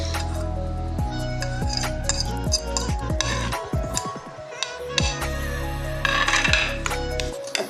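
A fork mashes boiled potatoes into chunky pieces in a bowl for samosa filling, giving quick repeated metallic clinks and scrapes against the dish, with softer squishy presses in between.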